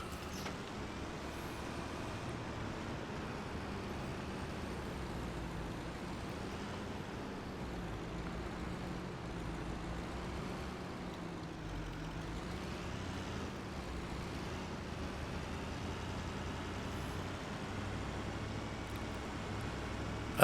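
In Farming Simulator 25, a truck pulls a trailer with a low, steady engine drone. The hum stays quiet and even throughout, with no other sounds breaking in.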